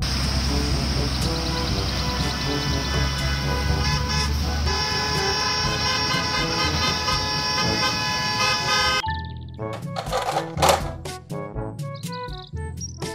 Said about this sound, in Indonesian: Mobil bus sekolah.